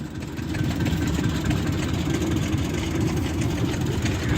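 Steady low chugging rumble of a small Case Model D tractor engine running at a steam show, close and loud, continuous with no break.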